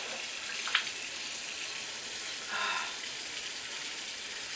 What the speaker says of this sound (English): I always like splash water.